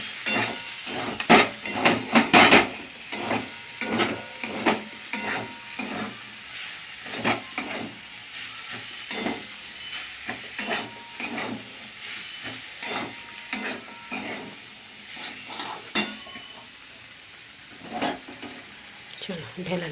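Food frying in plenty of oil in a pan, with steady sizzling and repeated scraping stirs of a utensil throughout, close and fairly loud.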